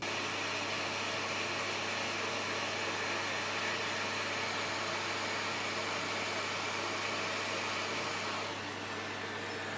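A hot air rework station set to 460 °C and 99% airflow blows a constant, even hiss while desoldering a USB chip from a Nintendo Switch board, a low steady hum beneath, easing slightly at the end.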